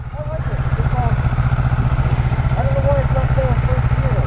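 A 2015 Yamaha FZ07 motorcycle engine thrums in a steady, loud low rumble while riding, with voices talking over it throughout.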